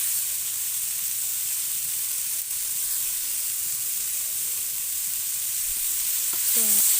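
Ginger and chili paste sautéing in a pan with turmeric, a steady broadband sizzle and hiss throughout, fairly constant and close, with a faint utensil touch near the end.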